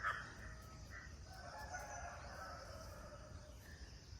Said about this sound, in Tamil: அதில் இந்த காக்கா குருவிங்க சத்தம் அதை விட சூப்பராக இருக்குது